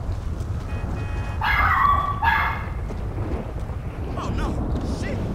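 A dog barks in a short burst during GTA 5 gameplay, the barks standing out over steady wind-like rumble and game noise, with faint voice sounds nearby.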